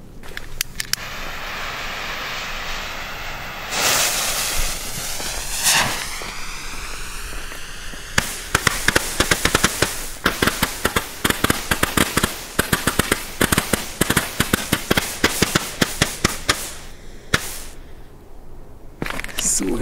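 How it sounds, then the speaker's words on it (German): A 60-shot fireworks battery from a Lidl rocket set going off outdoors: an initial whoosh, then a long rapid string of loud, crackling launch pops firing in quick succession before tapering off. "jetzt gleich die nächste 60 Schuss Leuchtkugelbatterie"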